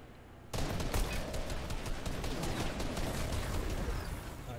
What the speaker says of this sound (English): I shot a guy.